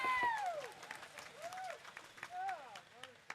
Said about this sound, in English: proven show horse a round of applause